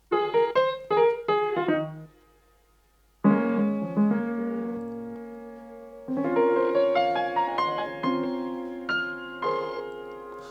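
Solo piano plays a gentle phrase of chords and melody, pausing briefly on a held low note before resuming with ringing sustained notes.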